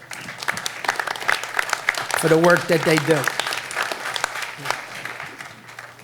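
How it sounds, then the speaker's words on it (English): A meeting audience applauds volunteers, scattered clapping that swells mid-way under a speaker's voice and then thins out toward the end. "I think the volunteers deserve a round of applause"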